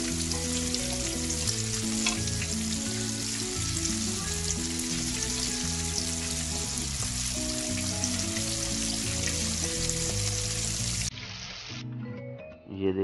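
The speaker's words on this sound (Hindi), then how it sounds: "चिकन हमारा फ्राई हो चुका है।" Chicken fries in hot oil with a loud, continuous crackling sizzle close by, under quiet background music, with clatter and a brief running-water sound near the end.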